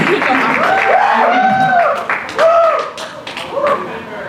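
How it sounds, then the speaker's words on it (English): Student audience at a leadership academy winter workshop applauds and cheers for a speaker, a dense wash of clapping with whoops and screams rising over it, near and loud, with voices mixed in. "So give her a round of applause"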